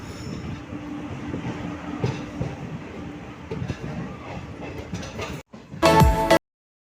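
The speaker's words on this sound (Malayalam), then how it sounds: "നമ്മുടെ വണ്ടി ഇങ്ങനെ പതിയെ തുറവൂർ റെയിൽവേ സ്റ്റേഷനിൽ ഇങ്ങനെ വന്നുകൊണ്ടിരിക്കുകയാണ്" A Kayamkulam–Ernakulam passenger train rumbles and clatters as it slowly rolls into Thuravoor railway station in Kerala, with faint voices inside and a sharp wheel squeal near the end.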